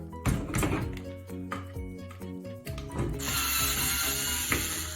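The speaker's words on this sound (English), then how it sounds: "So let's take the screws out." Screws are backed out of a vertical blind track with a clicking, ratcheting driver, heard in short bursts of mechanical clicks and small metallic knocks over background music.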